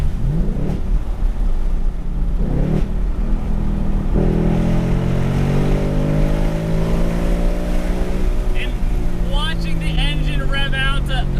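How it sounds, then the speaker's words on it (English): Big V8 muscle car engine revving hard with a brutal intake roar, pitch sweeping upward repeatedly as it climbs toward high rpm, loud and close. "that engine and that intake noise is just so brutal sounding"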